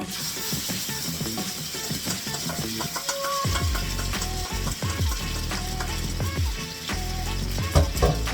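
Ground pork hits hot oil in a pan on a gas stove set to medium high, giving a steady loud sizzle and crackle with some scraping and stirring noises, close up and without talking.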